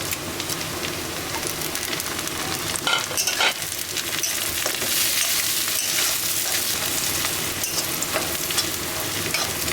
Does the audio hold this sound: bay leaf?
yes